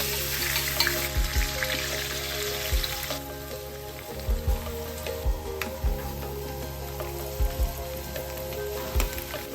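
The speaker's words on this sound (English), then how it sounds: "Fry the prawns for just 3 or 4 minutes on medium flame." Prawns fry in oil and ghee over a medium flame with a soft, continuous sizzle. Faint spattering and a few low knocks break through at intervals, and nobody speaks.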